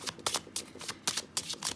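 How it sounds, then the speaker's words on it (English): Tarot cards, the major arcana with the death card mixed back in, are shuffled by hand in quick riffling bursts, six or so crisp rustles in a steady rhythm, close up and alone. "We take the death card and shuffle it back in with the majors."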